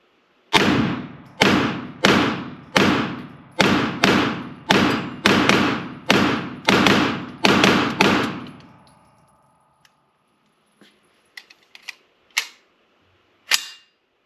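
A pre-ban Cobray M-11 9mm fitted with a fake suppressor fires about eleven loud, evenly spaced muffled shots in quick rhythm. A few faint scattered clicks and knocks follow, with no voices.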